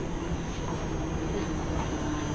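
A Mumbai local train at Dadar station gives off a loud, steady rumble and rolling rail roar. The noise is dense and unbroken for a couple of seconds, with no clear voices.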